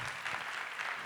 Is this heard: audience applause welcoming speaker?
yes